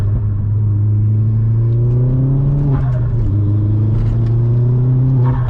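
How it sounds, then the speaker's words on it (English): A Vauxhall Astra VXR on a night drive, its engine droning steadily from inside the cabin with a pitch that rises, dips sharply at a downshift, then climbs again, loud and continuous. "Just got to pop then, downshifting into third. Yeah, downshift into second."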